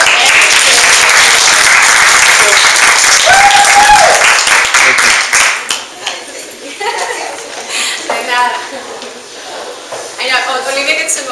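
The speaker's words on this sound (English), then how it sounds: "So I just wanted to give them a round of applause." Audience applause at a women's leadership launch event in San Jose, a dense wash of clapping filling the first five seconds, then thinning into scattered claps and chatter as people talk over it.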